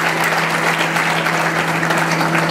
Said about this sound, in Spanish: Fuerte el aplauso para el pentatlón deportivo militarizado universitario